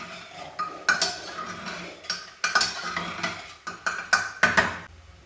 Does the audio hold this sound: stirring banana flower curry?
yes